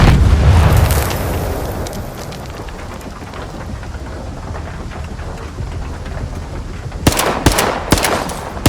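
A grenade blast in the video game STALKER 2 opens with a loud, deep boom and a heavy rumble. A long low roar follows, then a few sharp gunfire bursts near the end. No voices.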